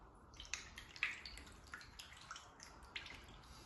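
Water drains slowly from wet paper fibers through a handmade Japanese papermaking screen, a faint steady trickle with scattered soft drips.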